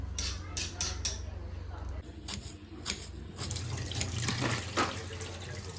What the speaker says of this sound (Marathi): आणि आता भेंडी वॉश होत आहे.